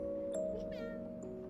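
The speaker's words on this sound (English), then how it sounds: "Now it's harder to know if the meows are intern or Bean." A kitten meows several times in a close, high, short series of squeaky mews over a steady low hum in a home.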